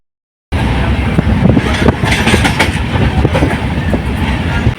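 A train on the Mangaluru to Maharashtra route via Madgaon rumbles loudly along the tracks, with rhythmic clattering of wheels over rail joints under a constant heavy roar.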